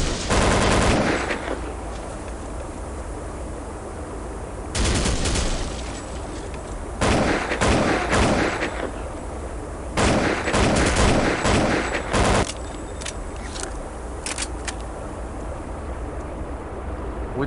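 Gunfire in Counter-Strike: Condition Zero Deleted Scenes on the Pipedream mission: loud bursts of automatic shots in several clusters over constant background noise, some long sustained volleys and shorter cracks.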